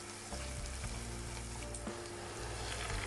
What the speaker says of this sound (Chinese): 再把蒜苔和红椒也加进来，翻炒至蒜苔断生。